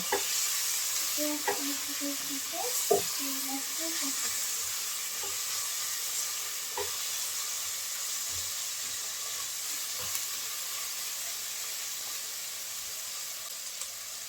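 Shrimp fry in a pan with onion and garlic paste for a mixed vegetable curry, giving a steady close sizzle with occasional stirring scrapes and clicks throughout.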